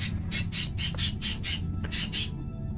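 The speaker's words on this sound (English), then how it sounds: "Gotta love having birds." Pet birds squawking indoors: a run of eight or so shrill, rhythmic squawks in quick succession, clear and fairly close over a steady low background hum.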